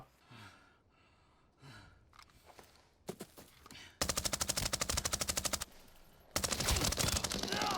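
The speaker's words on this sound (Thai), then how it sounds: "ปืน AP5 ของผมเนี่ย ยิงไกลไม่ค่อยแรงเท่าไหร่" An AP5 gun fires in the video game Arena Breakout Infinite, preceded by quiet footsteps and breaths. Two long, loud bursts of rapid automatic fire follow, separated by a short gap.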